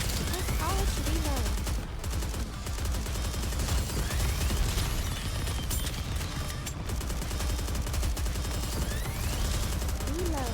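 Rapid gunfire from the shooter game NIKKE, continuous bursts and volleys layered over a dense game soundtrack, loud and sustained.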